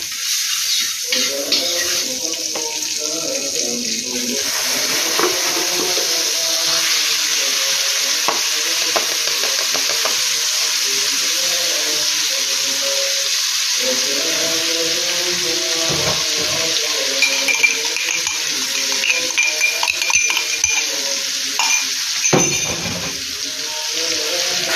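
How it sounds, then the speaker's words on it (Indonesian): Blended spice paste sautéing in margarine with a little cooking oil, a steady close sizzle with scraping stirs for risol filling, no talking. "di sini aku mau menumis bumbu halus yang tadi sudah aku blender. Aku gunakan margarin supaya rasanya itu lebih gurih dan sedikit minyak goreng."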